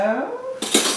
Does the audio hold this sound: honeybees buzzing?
no